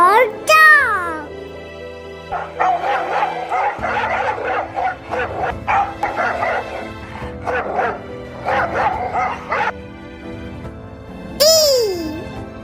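A dog barks and yips in a rapid series of sharp, close barks over a soft musical bed, with a short whimpering tone mixed in among the calls.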